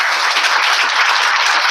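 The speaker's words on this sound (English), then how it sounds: "One final round of applause for Uken." Dense, loud applause from a packed meetup audience for Uken, a continuous crowded wash of clapping filling the room without pause.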